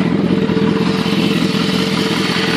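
A BMW S1000RR sports motorcycle on its stock exhaust runs at a steady, close, loud idle with a busy mechanical clatter, and no speech is heard.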